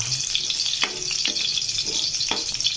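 Garlic sizzles steadily in hot oil in a pan, a close, continuous frying hiss broken by a few soft stirring scrapes and knocks, with no one talking.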